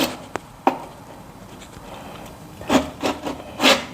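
Paint scraper held flat against a window and dragged down to strip old paint in a basement: a few sharp scraping strokes, close and rough, separated by quiet pauses.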